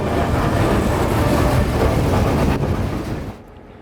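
A rumbling freight train of rock-laden hopper cars rolls steadily past close by, a continuous heavy roar of wheels on rails that fades toward the end.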